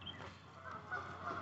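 Canada goose honking near water on a nature preserve, a protective mother guarding her brood, giving low, hoarse honks and hisses at moderate distance over steady outdoor background noise.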